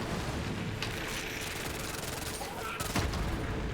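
Rapid bursts of game gunfire from Borderlands 3 sound as a dense, continuous fusillade with sharper cracks near the end, fairly quiet and steady throughout.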